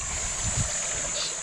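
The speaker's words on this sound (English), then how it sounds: "Listen to that water." Water rushes steadily over rocks in a small stream within a kloof in the Baviaanskloof, a continuous close wash of flow with some wind buffeting the microphone.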